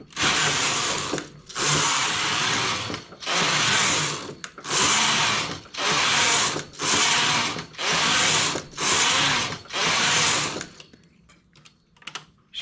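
A knitting machine works a cabled skirt, its carriage sliding back and forth in about nine loud, even, rasping sweeps separated by short pauses, then a few quiet clicks of needle handling, with no talking.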